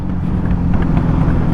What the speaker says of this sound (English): The only reason those noise coming out of the exhaust is because